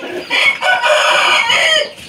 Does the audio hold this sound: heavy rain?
no